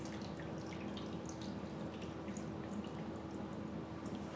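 Liquid pours steadily into the chutes of an AGO film processor, a continuous close trickling and splashing that runs unbroken throughout with no talk.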